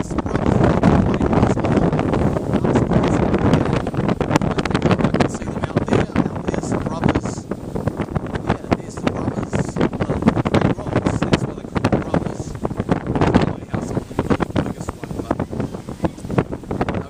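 Strong wind roars steadily across the microphone during an off-grid journey, a loud continuous buffeting rush that stays close and constant throughout.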